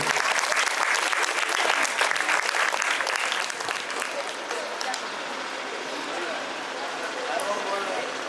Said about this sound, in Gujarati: ફરી પાછું જોરદાર બધા માટે એક વખત તાળીઓ